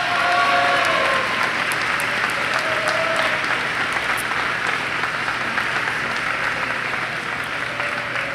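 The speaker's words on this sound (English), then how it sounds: "Please give our award winners a round of applause." Steady, dense applause from a school awards assembly crowd honouring student award winners, a loud even wash of clapping that holds throughout without letting up.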